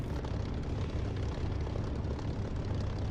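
Aircraft engine in the DCS flight simulator roaring steadily at takeoff power, a dense continuous drone with strong low rumble and no talking.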